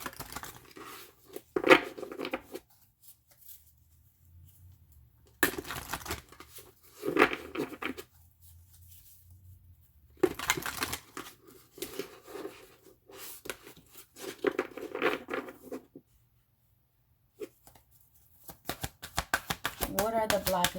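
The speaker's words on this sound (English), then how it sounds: "Let me give these a couple of shuffles" Tarot cards being shuffled in several quick riffling bursts, close and crisp, separated by pauses with a voice talking between them.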